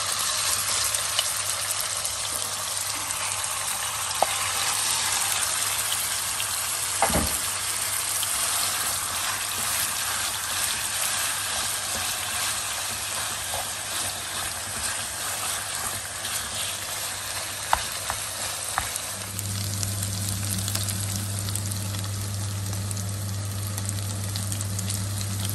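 Meat for çökərtmə kebab fries in oil, giving a steady, dense sizzle that lasts throughout, close and fairly loud, with a low hum under it and a few brief clicks.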